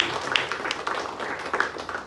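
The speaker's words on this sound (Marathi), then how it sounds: "डॉक्टर मुस्कान मॅडम साठी जोरदार टाळी होऊ द्या." Light, scattered clapping from a small gathering at a therapy centre honours a female doctor, with uneven hand claps and a couple of brighter, sharper claps over a low room murmur.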